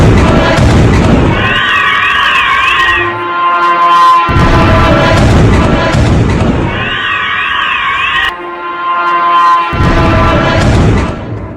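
Shahed drone strikes in Tel Aviv: heavy booming blasts repeat in bursts, each followed by rumbling, with a rising-and-falling whine overlaid, loud and close.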